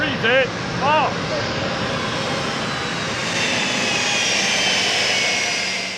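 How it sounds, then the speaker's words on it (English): A Delta jet airliner taxis toward the gate, its engines giving a steady, broad roar that swells slightly over about six seconds, with brief voices near the start. "There's a Delta flight approaching here."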